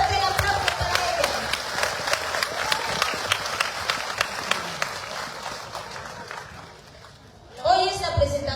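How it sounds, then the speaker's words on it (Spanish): Audience at a book presentation breaking into applause, dense clapping for about seven seconds that fades out before a voice speaks over a loudspeaker. "Fuerte el aplauso para ella."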